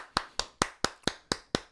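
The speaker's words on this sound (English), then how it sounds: "Let me give a clap for Prentice and myself." Seven crisp, evenly spaced hand claps in a quick steady rhythm, close and clear, from a single person applauding the hosts of a morning show.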